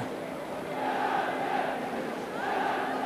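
A packed football stadium crowd at Leeds United against Manchester United, a dense roar of voices with chanting that swells and dips in waves, heard from a distance as a continuous wash of sound.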